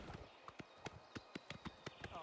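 Horse hooves clip-clop in a steady trotting rhythm, about ten distinct close, crisp footfalls while riding along a road in Oblivion Remastered, with faint game ambience beneath.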